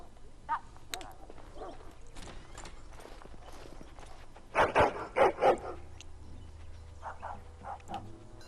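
A dog barks in the video game Dragon Age: Origins, a quick burst of three or four sharp barks midway through, with other faint game sounds before and after.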